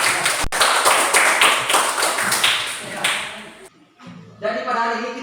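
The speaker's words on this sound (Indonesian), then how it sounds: "tepuk tangan" A classroom group claps in a quick, regular rhythm for about three and a half seconds, sharp and close. Then the clapping stops and a voice speaks.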